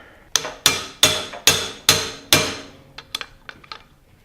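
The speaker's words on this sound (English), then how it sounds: "all right, where's the hammer?" Six steady, sharp hammer blows on a metal bearing race ring out in a regular rhythm, followed by several lighter, quicker taps fading out, during Triumph front end assembly.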